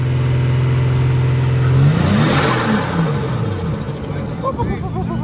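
Nissan Skyline R33 GT engine, old fuel and a slight misfire, idles low and steady and then revs briefly before settling, close and loud with background chatter.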